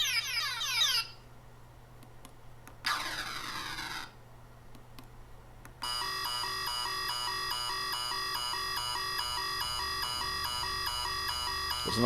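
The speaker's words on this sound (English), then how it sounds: "There's an alarm. Hopefully it shuts off." An Embryon pinball replacement sound board plays electronic alarm tones. Short bursts of sweeping synthetic whoops come first, then a steady repeating warbling alarm pattern continues loud and close to the end.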